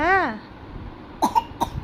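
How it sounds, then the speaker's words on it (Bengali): After a brief rising-and-falling vocal sound, a few short, sharp coughs come close by in quick succession near the end. "কাশি পেয়ে যাচ্ছে খালি।"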